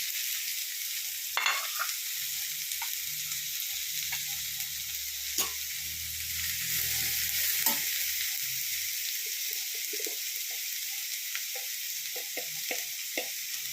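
Cabbage thoran frying in a pan as it is stirred, a strong continuous sizzle with scattered scrapes and taps of a spoon.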